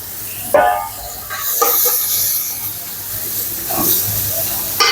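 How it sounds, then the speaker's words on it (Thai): Beef for Hungarian goulash stir-frying in a pan, with loud bursts of hissing sizzle and spattering rising and falling under someone talking. "ช่วงที่เราผัดเนื้อนี่นะครับ"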